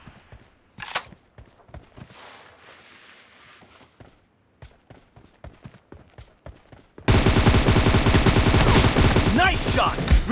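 Rapid gunfire in a battle royale mobile game, a 1 vs 3 team deathmatch in a room: sparse single shots and footsteps, then a sudden loud continuous burst of automatic fire near the end.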